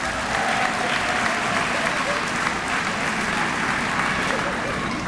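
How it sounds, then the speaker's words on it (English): A commencement audience at Bowie State University claps for the provost in a loud, sustained, dense wash of applause across a large hall, with some crowd noise mixed in. "Please give our provost a round of applause."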